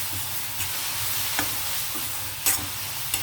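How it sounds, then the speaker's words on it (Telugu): Onions fry in a pan with a steady background sizzle, while a spoon stirs and scrapes them in a few brief clicks, close and moderately loud, with no talking. "ఇప్పుడైతే ఈ ఆనియన్ ఇంకొంచెం వేగనిద్దామండి"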